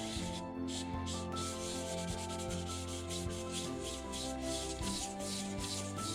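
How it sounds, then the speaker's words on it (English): Continuous rhythmic rubbing of wet-and-dry sandpaper polishing a fossil, close and steady, with repeated back-and-forth strokes and no talking. "The only thing where you're hearing resistance is where the wet and dry is just getting wet."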